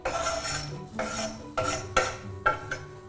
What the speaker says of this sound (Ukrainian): Підсмажуємо цибульку.